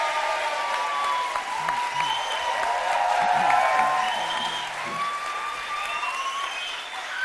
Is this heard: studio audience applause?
yes